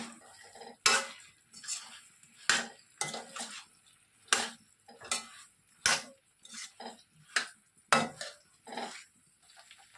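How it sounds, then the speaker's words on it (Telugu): Fried soya chunks are tossed into a pan for soya chunks Manchurian and stirred, with a series of sharp metal spatula clinks and scrapes against the pan in an irregular rhythm over a faint sizzle. "ఇప్పుడు మనం ఫ్రై చేసి పెట్టుకున్నటువంటి సోయాని ఇందులోనికి వేసేసుకోవాలి"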